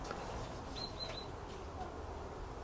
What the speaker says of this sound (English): There's a bird in here. Is that? Yeah, I can hear it.